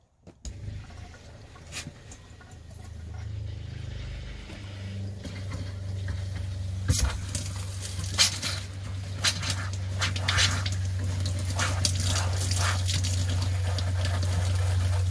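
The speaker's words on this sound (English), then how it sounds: "let's see what happens when I turn on the water pump" A camper's water pump hums steadily, low and continuous, after switching on, with water running from an open faucet and scattered knocks and clatter over it.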